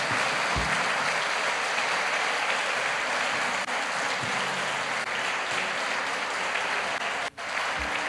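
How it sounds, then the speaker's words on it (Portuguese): A church congregation applauds in steady, dense clapping that fills the space continuously for several seconds, a broad sustained wash of many hands with a few low thumps beneath, no speech rising above it. "Você pode aplaudir ao Senhor"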